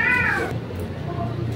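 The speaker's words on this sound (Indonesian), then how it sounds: "Itu kucing berisik." A cat meows loudly and insistently nearby, one drawn-out whining meow that fades into low background noise.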